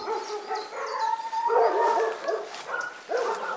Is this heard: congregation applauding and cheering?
no